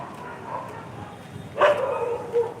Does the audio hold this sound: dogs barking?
yes